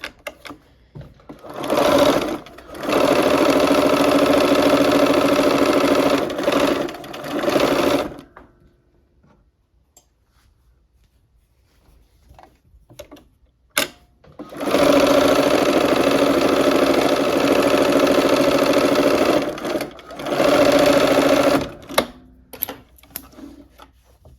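A sewing machine stitches quilt block seams for a nine-patch quilt in two long, loud, steady runs separated by a quiet pause with small handling clicks, close up and without speech.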